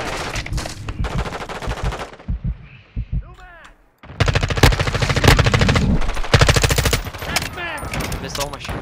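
Gunfire in a Modern Warfare 2 multiplayer match, loud rapid automatic bursts near the listener, broken by a short lull with scattered clinks before another long, heavy volley.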